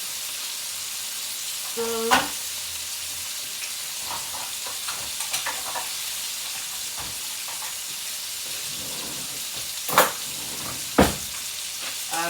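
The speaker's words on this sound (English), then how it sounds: "See them frying nicely with the oil thinning up as usual." Chicken fillets fry in hot oil with a steady, close sizzle, broken by a few sharp clicks and clatters from turning and handling in the pan.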